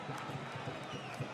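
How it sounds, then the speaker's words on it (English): A football stadium crowd chants and cheers in a faint, steady wash with rhythmic pulses of clapping or drumming, heard from a distance. "You hear how the crowd is getting involved in it."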